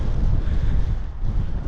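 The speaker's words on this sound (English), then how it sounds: "oh, a little bit windy" Gusty wind buffets the microphone on an open Lake District fell walk near Loughrigg Fell, a steady low roar rising and easing briefly, close and loud with no voices.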